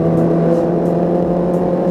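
Kawasaki ZX25R motorcycle engine running close by, a loud, steady high-pitched buzzing drone with little change in revs.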